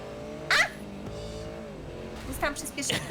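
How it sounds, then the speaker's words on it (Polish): A powerful car revs and accelerates during an online race in the video game GTA V, with a steady engine drone, bursts of tire squeal, and someone talking over it. "mam bardzo potężny samochód"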